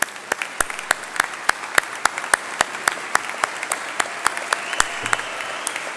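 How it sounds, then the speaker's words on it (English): An audience at a school recognition ceremony applauding faculty and students, steady clapping with sharp individual claps standing out, tapering slightly toward the end. "all of us can give the faculty and the students a round of congratulatory applause"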